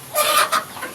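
Young kampung KUB chickens, about two and a half to three months old, cluck in a two-level coop, two quick close clucks in a short moment.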